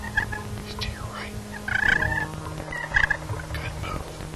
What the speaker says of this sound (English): there's still a gobbler out there somewhere